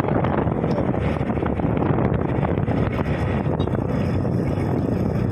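Strong wind buffets the microphone in a constant loud roar, with faint rustling underneath and no voices.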